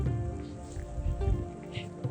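Steady rain falls outdoors in an open bowl area, a dense continuous patter of drops on surfaces with low rumbling background and no talking.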